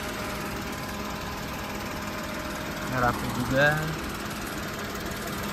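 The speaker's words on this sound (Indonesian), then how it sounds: "getaran mesin dengan kondisi AC menyala normal" A 2016 Daihatsu Ayla X manual's engine idles steadily with the air conditioning running, a constant close hum and vibration, while someone speaks briefly over it.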